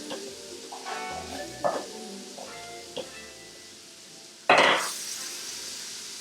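Shrimp hit a hot frying pan with a sudden loud sizzle that keeps hissing and slowly fades, after softer clinks and stirring sounds from the pan.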